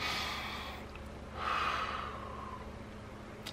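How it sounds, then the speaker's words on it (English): A single person takes a quiet, audible breath, a soft inhale swelling midway and then easing off against faint room hiss, with no words spoken. "Take a breath. I take a breath."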